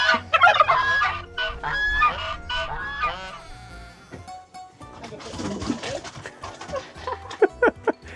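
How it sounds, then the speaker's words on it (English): Poultry calls and honks in a front yard, several birds clucking and honking close by in irregular bursts, with a few voices mixed in among them. "I can already hear her animals clucking in the front yard."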